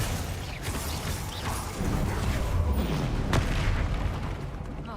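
Confringo fire spell cast in the Hogwarts Legacy video game, a dense booming blast with mechanical clatter that thickens midway and holds steady, sharp crack near the end, no speech.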